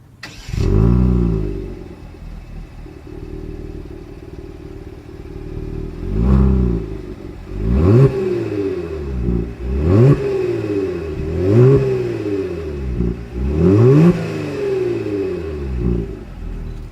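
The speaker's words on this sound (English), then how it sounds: "As always, here is that exhaust clip." A 2020 Genesis G70 engine starts with a burst, then revs repeatedly through the exhaust, five or six loud rising-and-falling surges close by.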